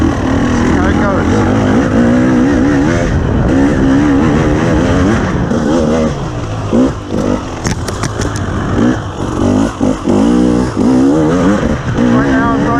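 A 2021 KTM 300 TPI two-stroke dirt bike fitted with a GET race kit, ridden hard off-road: a loud, continuous engine roar that rises and falls as the throttle is worked, with close wind buffeting throughout.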